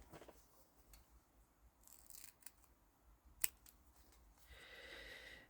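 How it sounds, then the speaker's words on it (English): Quiet, close snips of scissors cutting a thick ribbon, a few crisp blade clicks with one sharper snap midway and a soft rustle at the end. "These scissors are absolutely rubbish."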